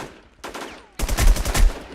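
Gunfire in the online shooter War Inc. Battle Zone: a faint shot, then a rapid burst of repeated loud shots in quick rhythm, close and punchy, with no talking over it.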